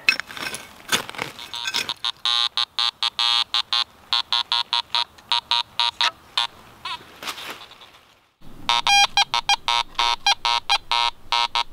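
Metal detector swung over ground full of buried nails in New Hampshire woods, giving a rapid, choppy string of high electronic beeps with a brief gap before the chirping resumes.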